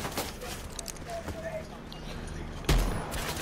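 A single loud, close shotgun blast goes off in Call of Duty Black Ops Blackout, rising sharply out of busy game ambience, with voices chattering around it.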